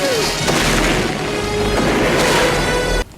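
A rocket launcher blast in a Rambo action film: a dense, loud roaring crash with heavy low rumble and debris-like clatter sustained for about three seconds, then cutting off abruptly into quiet.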